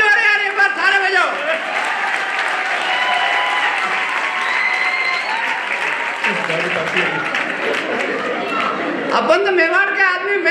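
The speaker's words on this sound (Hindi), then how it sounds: "थोड़ी आपकी तालियां कमजोर है यार, एक बार थारे बजाओ।" Audience at a live Hindi stand-up comedy show clapping steadily throughout, with a voice talking over the applause and crowd chatter mixed in.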